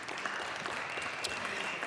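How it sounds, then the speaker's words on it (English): Applause in the Colorado House of Representatives chamber at the state Capitol for a visiting school group, a steady wash of clapping from many people, fairly faint and distant throughout. "let's give a round of applause to Christian Core Academy out of Fort Collins"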